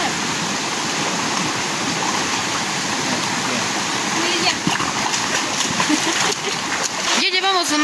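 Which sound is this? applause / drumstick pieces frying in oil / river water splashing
river water splashing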